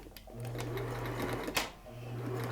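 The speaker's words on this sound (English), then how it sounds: "I'm going to do a straight stitch right along the edge" A sewing machine runs a straight stitch along a fabric edge while making a turban, its steady motor hum running continuously with a brief pause near the middle, close and clear.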